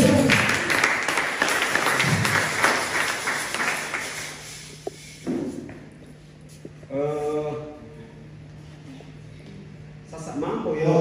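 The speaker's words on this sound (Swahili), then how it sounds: "First clap for yourself." Applause from a youth prayer gathering as the audience claps for themselves, dense clapping for about five seconds that then fades, followed by talk over the hall.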